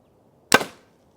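Single sharp thwack of a Hoyt RX-9 Ultra compound bow being shot, a loud dry crack with a short woody decay and no talking.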